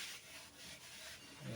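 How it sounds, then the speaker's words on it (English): Steady, continuous rubbing and scraping of sandpaper over glued-up pine, with a few rhythmic strokes, close up and fairly quiet, no talking. "I'm going to give it a little bit of a sanding first"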